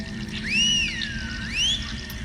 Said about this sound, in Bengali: যাই হোক হুইসেল বাজাতে হবে আমাকে